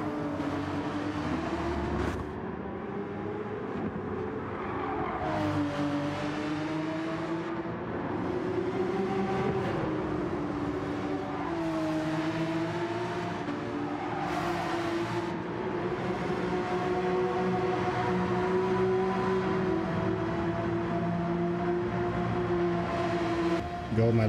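Porsche race car engine from Gran Turismo 7 in a daily race at Trial Mountain, a steady droning engine note that rises and falls through gear changes under ongoing commentary.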